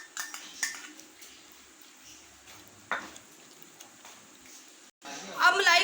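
A spoon scrapes and clinks against a kadhai while chicken malai handi is moved into it, with scattered metallic taps and scrapes, a louder scrape near the end, and faint background hiss.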